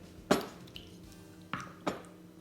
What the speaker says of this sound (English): I'm gonna mix it well so that the masala coats the Kaleji very nicely